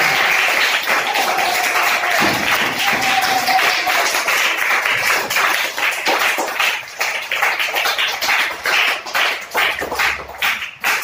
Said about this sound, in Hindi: ताली बजाओ बच्चों।